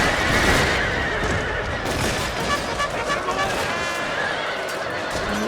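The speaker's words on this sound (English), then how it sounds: "And look at all those horses going down." Horses neighing and whinnying amid a battle in the video game Shogun II Total War, loud and continuous over clattering hooves and gunfire, with a voice faintly talking underneath.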